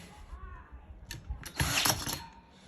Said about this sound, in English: You have to screw them in very slowly until you put both of the screws in